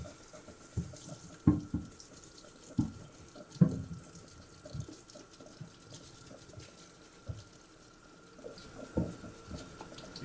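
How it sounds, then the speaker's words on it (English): Water runs quietly as it rinses shampoo from the suede upper of a Gucci chukka boot, with a soft continuous trickle, scattered splashes and light handling knocks, close up and without talk. "using some water, we will remove the shampoo or any remainder of the shampoo from the upper."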